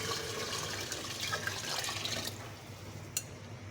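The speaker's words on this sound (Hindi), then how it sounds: "अब हम इसमें डालेंगे 2 से 3 गिलास पानी।" Two to three glasses of water pour into a pot of aloo gosht, a potato and meat curry, after the meat has been browned. It is a steady, close splashing rush that stops abruptly partway through, followed by a quieter tail.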